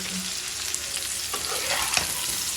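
Food sizzles loudly in a pan over a high flame, with a continuous frying hiss broken by a few stirring scrapes, close up and without talk.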